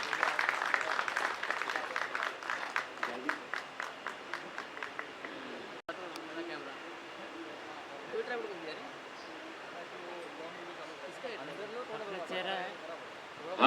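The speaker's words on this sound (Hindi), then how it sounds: "पुरज़ोर तालियों से इस्तकबाल करें दोस्तों" An audience at a music video launch claps to welcome a guest on stage, a burst of applause with rhythmic clapping that fades into room murmur and voices.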